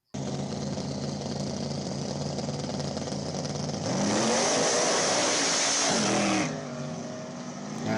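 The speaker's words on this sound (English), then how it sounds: "That Mustang flies." A Ford Mustang accelerates hard through the gears, its engine note rising and roaring loudly for a few seconds before easing off, heard up close with no talk over it.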